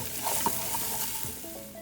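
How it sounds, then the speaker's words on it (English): Ground cumin sizzling in a pan for palak paneer while being stirred, a steady close frying hiss with a few scraping strokes of the spoon. "We're going to stir that and let that continue to cook."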